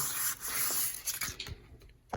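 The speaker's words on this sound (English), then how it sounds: "I'm sanding this entire thing with 200 grit sandpaper" Brief bursts of dry scratchy rubbing as 200-grit sandpaper is worked over wood in short strokes, close by and fairly quiet.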